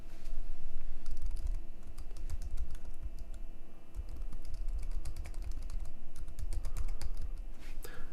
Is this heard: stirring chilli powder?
no